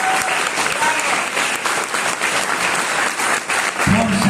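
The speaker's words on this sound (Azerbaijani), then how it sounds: "Gəlin, balaca səhnənin böyük aktyorlarını alqışlayaq" An audience at a children's stage performance applauds the young actors: dense, steady clapping from many hands that keeps going at an even level for the whole stretch, with a voice faintly audible beneath it.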